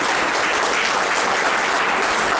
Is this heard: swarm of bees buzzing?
no